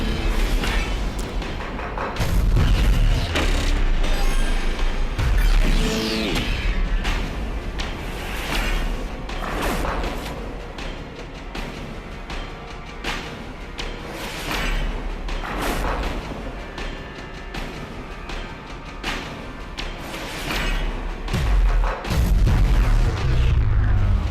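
Booming explosions and thuds from the VR game Thumper roll through a dense, noisy soundtrack, with repeated loud blasts and whooshes over about twenty seconds.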